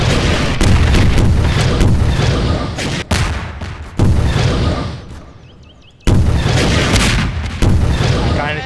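Gunfire in the video game Garry's Mod, with loud, dense volleys of booming shots and explosions that roar almost continuously, broken by brief drops and a quieter fading gap before the firing resumes.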